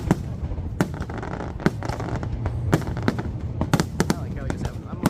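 Fireworks bursting at the Boston America 250 Independence Day show, with repeated sharp explosive cracks and booms in an irregular rhythm over a murmuring outdoor crowd, with people talking nearby.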